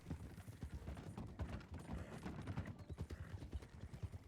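In a video game, a horse's hooves canter along a trail in quick, steady rhythmic beats, faint but clear with no talk over them.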